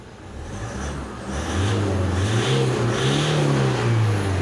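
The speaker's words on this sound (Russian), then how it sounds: "Сейчас пойдем погазуем." A Toyota diesel engine, not yet warmed up, revs repeatedly, its low droning note rising and falling in a few steady surges. The sound is loud and close, with no voices.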